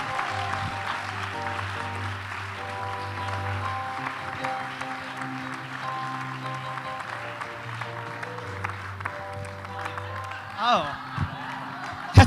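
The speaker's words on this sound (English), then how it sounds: "So please, a big round of applause" An audience at a mayoral forum applauds for a speaker, a steady wash of many hands clapping at moderate volume with musical tones underneath, tapering off near the end.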